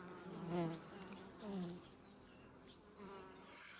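Swarm of honey bees, the first swarm of the season, buzzing up close in a tree, a dense droning hum with individual bees flying past near the microphone.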